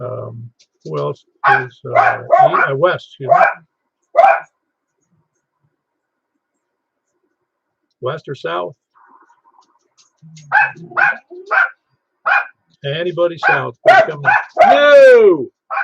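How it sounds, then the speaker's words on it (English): Dogs barking and yipping in a home during an amateur radio net, sharp bursts in the opening seconds and again near the end, mixed with someone talking over the radio. "you can hear my dogs barking at me because they're upset I didn't take them out"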